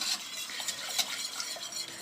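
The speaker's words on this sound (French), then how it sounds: "Et surtout bien battre au fouet, parce que sinon ça va faire des grumeaux" Whisk beating a béchamel sauce in a pan for fish and vegetable lasagne, a steady soft scraping and swishing with faint metallic clinks, close and continuous with no talk.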